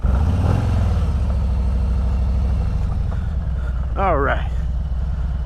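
Harley-Davidson Road King Special motorcycle engine running steadily on the road, a loud low rumbling drone throughout with someone speaking briefly over it.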